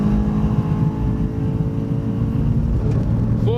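A car on the Phillip Island circuit at full throttle in third gear, engine droning loud and steady from inside the cabin, with a brief high tonal sweep near the end.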